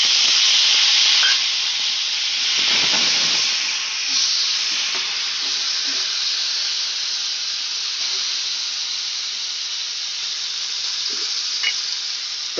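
Two medium-sized chopped tomatoes fry in a pan for a black chickpea and potato dish, giving a loud, steady hiss and sizzle throughout, with a few soft stirring scrapes in between.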